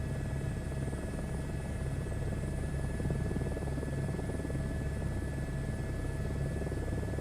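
Steady helicopter rotor and turbine drone in a flight simulator game, a continuous loud whirring hum with a low rhythmic chop that holds evenly throughout with no pauses.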